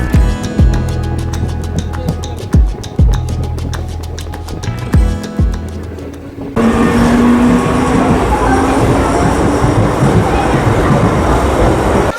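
A passenger train runs on the rails toward Majhdia station. Its wheels clack in a steady beat, then a loud, constant rushing roar fills the rest of the clip, close by.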